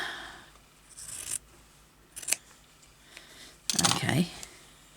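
Scissors snipping fabric while making a crazy patchwork cover, three separate bursts of sharp crisp cutting close by, with quiet pauses between them.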